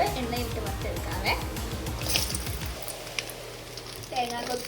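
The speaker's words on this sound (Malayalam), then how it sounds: "ഇനി നമുക്ക് ഡെക്കറേഷൻ ആയിട്ടുള്ള സാധനങ്ങൾ എണ്ണയിലിട്ട് വറുത്തെടുക്കാവേ." Garnish ingredients, coconut pieces among them, fry in hot oil with a moderate sizzle and soft stirring, partly under a person talking at the start and end.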